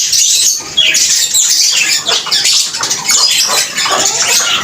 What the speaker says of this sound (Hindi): ये हमारे तोते हैं सब।